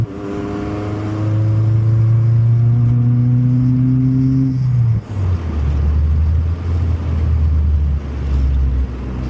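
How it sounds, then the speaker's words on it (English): A 1996 Honda Civic hatchback with a swapped B20B engine pulls hard in second gear, its loud engine note climbing steadily in pitch for about five seconds before a shift drops it to a lower, rumbling drone that continues to the end. "that second gear pull back there, just that little bit that I gave it"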